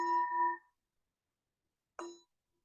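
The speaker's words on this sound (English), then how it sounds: "The fading of the sound of the bell, we are turning the attention inwards." A meditation bell strikes twice, each a clear resonant ring with bright overtones; the first rings for about half a second before fading, the second shorter, with silence between and no voices.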